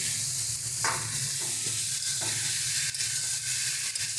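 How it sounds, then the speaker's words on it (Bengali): Soybean chunks stirred into spices frying in a pan, a loud, continuous sizzle with scraping stirs and occasional light clinks, close up and with no voices. "এবার এর মধ্যে আমরা সয়াবিনটা দিয়ে দিচ্ছি।"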